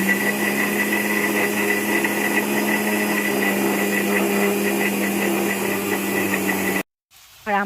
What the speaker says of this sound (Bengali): তা আজকে অনেকটা মশলা বলে ওই জন্য আমি মিক্সিতেই করে নিচ্ছি।